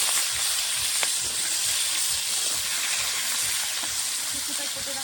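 Washed, cut potatoes sizzle in hot oil with panch phoron for a fish-head cabbage ghonto, giving a steady broad hiss of frying that continues evenly throughout.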